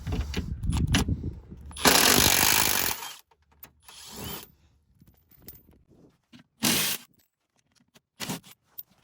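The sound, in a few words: cordless drill driving screws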